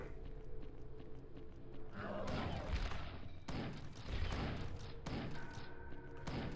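Shotgun blasts in the game Chasm: The Rift come as several heavy, booming shots at uneven intervals, each with a sharp thud and a decaying tail over a busy background of game sound.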